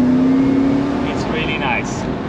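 A Mercedes SL car's engine revs up as it accelerates, a steady rising drone that runs under continuous nearby talk for the whole short stretch.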